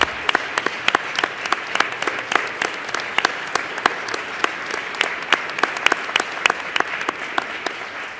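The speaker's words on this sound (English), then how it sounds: "I think we should all stand up and just give this topic a round of applause" A crowd claps steadily throughout at an event with the Vice President in New Jersey, dense applause with sharp individual claps standing out, fairly close and even in level from start to finish.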